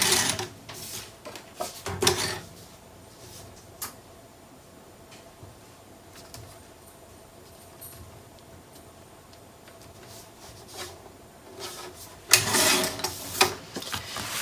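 Paper is trimmed by a sixteenth of an inch for a Graphic 45 Fairie Wings scrapbook page, with rattling mechanical cutting bursts at the start and end and quieter ticking between.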